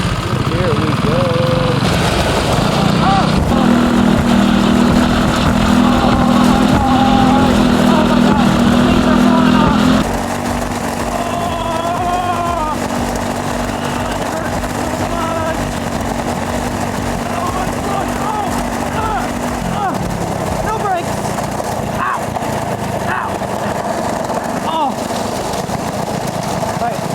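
An engine struggles to keep running on a car driven on stone wheels, a rough, uneven drone with a steady hum under it, loud and close, heard over people talking.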